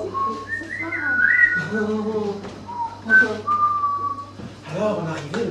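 A person whistling a melodic tune, clear sustained notes rising and falling close up, broken by a few short spoken words in between.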